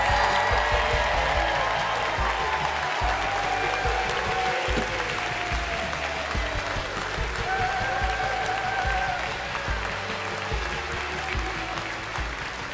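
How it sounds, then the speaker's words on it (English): A studio audience at a television talk-show season premiere claps steadily and densely for the whole stretch, loud and close, with a low hum underneath. "You guys clap"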